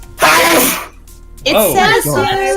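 A single loud, close sneeze bursts out near the start, followed by a brief pause and then people talking.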